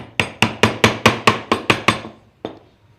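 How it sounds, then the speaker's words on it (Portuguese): A screwdriver is tapped in under a small nail in a glued wooden piece of a handmade wooden square: nine sharp, evenly spaced knocks in quick succession, a pause, then one last single knock. "Vou colocar uma chave de fenda para remover esse preguinho."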